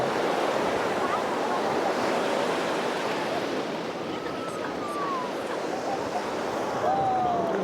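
Waves washing up onto a shore, a loud continuous surf roar with wind noise on the microphone, steady throughout and close to the listener.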